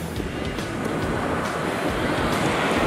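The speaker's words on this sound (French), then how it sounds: "Ici, c'est la plage de Grau de Castellón." Mediterranean surf rolling onto Grau de Castellón beach, a steady broadband wash of waves with some wind rumble, continuous and fairly loud, no voices.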